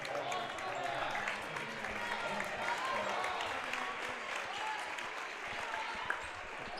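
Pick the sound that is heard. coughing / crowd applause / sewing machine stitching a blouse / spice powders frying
crowd applause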